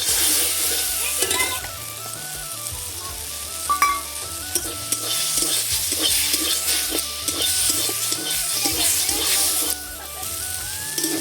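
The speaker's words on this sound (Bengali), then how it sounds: "এখন এর মধ্যে ভেজে রাখা চিংড়ি মাছগুলো দিয়ে দেবো" Fried shrimp tossed into a pan with okra, sizzling steadily while a utensil stirs and scrapes, with brief clinks against the pan.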